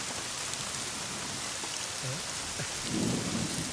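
Heavy rain pours steadily with a low thunder rumble, a constant dense hiss; a few faint voice-like tones surface briefly.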